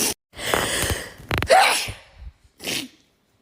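A woman with seasonal allergies lets out a big sneeze, a sharp nearby burst preceded by a gasping intake of breath and followed by a shorter breathy sound.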